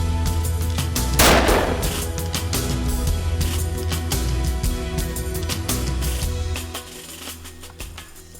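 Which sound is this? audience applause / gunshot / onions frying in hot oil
gunshot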